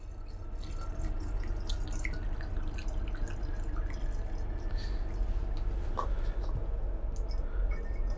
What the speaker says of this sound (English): we're just going to fill our 1-liter bottle